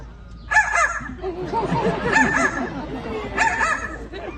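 A parrot at African Lion Safari mimics a dog's bark in a few short, harsh bursts, with chattering vocal sounds between them, close and fairly loud.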